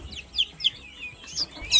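Young chicks moved from a brooder into the main chicken coop, giving several high, thin peeps and chirps in quick succession, close by and moderately soft.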